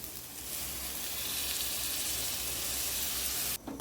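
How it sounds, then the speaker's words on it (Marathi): Tomato puree hits sautéed onion, green chilli and garlic in a hot pan, giving a loud, even hissing sizzle that runs steadily before cutting off abruptly near the end. "याच्यामध्ये आता टमाटरची प्युरी टाकून द्यायची"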